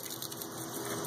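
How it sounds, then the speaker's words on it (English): Water sloshing and rushing steadily inside a container as soap is rinsed out, a continuous close gushing wash lasting about a second with no talk. "Rinse it a bunch of times."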